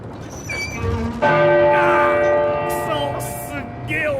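Church bell tolling in the game Uncharted 4: a loud, resonant bell strike with long ringing overtones that sustain and slowly decay, with a second fainter strike following, heard alone.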